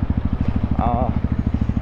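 Crossfire RMZ 250 dirt bike engine running on a test ride in Nepal, a steady pulsing exhaust beat with a brief rising whine partway through, close and fairly loud.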